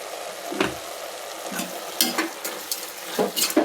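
Vegetables sautéed with spices in a pan, a steady close sizzle broken by several irregular scraping stirs of a spoon against the metal.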